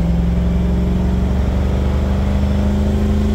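An EFI 460 V8 stand-alone engine runs steadily in a vehicle, a loud, close, even idle-to-fast rumble with a strong low throb throughout and no talk.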